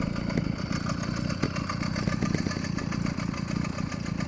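A small motorized bicycle engine idles somewhat high, a steady close-up putter with rapid, even firing pulses and no speech.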